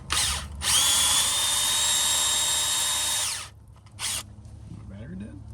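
Power drill grinding away at an upper ball joint on a 1997 Chevy, loud and close in a sustained run of about three seconds, followed by a brief second burst, with faint low background noise between.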